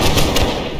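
Musket volley fired by a line of soldiers on a hillside in the game Holdfast: a dense crackle of overlapping shots with several sharp peaks, loud and close, fading into rumbling echo.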